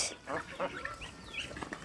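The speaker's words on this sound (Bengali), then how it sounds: "এগুলো হচ্ছে আমার বাড়ির হাঁস মুরগি পালন করা হয়" Backyard village chickens and ducks cluck softly in short bursts while being fed, quiet and close, with faint talking nearby.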